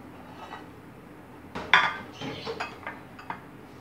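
Breadcrumb-coated chicken pieces are set down one by one into a baking dish for cheesy baked chicken, giving a few close clinks and soft knocks of dish and utensils after a quiet start, with no talking.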